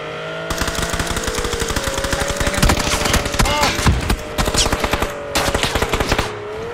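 Video game gunfire rattles in long rapid automatic bursts, loud and close, with brief gaps between strings of shots over a low steady hum.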